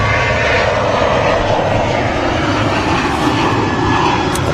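A Ryanair airliner departs Manchester Airport, its engines giving a loud, steady, close roar that stays constant for the whole stretch.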